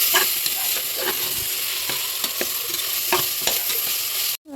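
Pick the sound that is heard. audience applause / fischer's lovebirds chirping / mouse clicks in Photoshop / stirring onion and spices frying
stirring onion and spices frying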